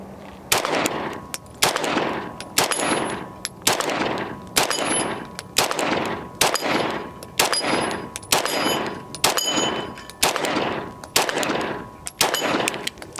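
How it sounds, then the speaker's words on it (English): A Staccato C 4-inch 2011 pistol firing SuperVel 115 certified select ammunition at an outdoor range, about ten loud, sharp shots at a steady, roughly one-per-second pace, each with a ringing tail and occasional metallic pings from struck targets. "we're shooting some SuperVel 115 certified select"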